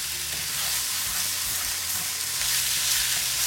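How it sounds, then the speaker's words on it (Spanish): Ground beef frying in a cast iron pan while it is broken into crumbles, giving a steady, close sizzle with soft stirring scrapes and no talking. "vamos a echar nuestra carnita y la vamos a empezar a hacer en miguitas para que se vaya sofriendo mejor"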